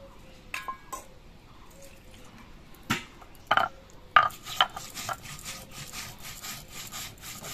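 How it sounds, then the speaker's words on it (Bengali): Roasted cumin seeds being ground into a paste on a stone, with scattered scraping and rubbing strokes, a few sharper knocks, then steadier rhythmic grinding toward the end, close and fairly quiet. "এদিকে যে জিরেগুলো আমি ভেজে রেখেছিলাম সেই জিরেটা বেটে নিচ্ছি"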